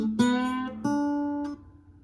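Acoustic guitar in open D tuning played with a slide in a blues style, a short riff of a few plucked notes with a sliding attack, close and alone with no talking.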